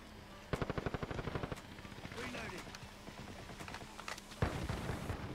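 Rapid automatic gunfire from hip firing in a first-person shooter video game, a fast burst of sharp shots followed by scattered game sounds and another burst near the end, with a voice speaking over it.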